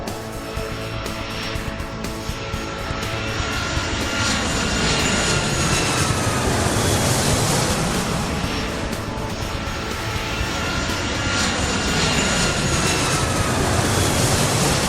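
Aircraft engines drone continuously while a plane taxis at an airport in the Airport Madness 3 game, a loud, even roar with slow swells in pitch and no voices.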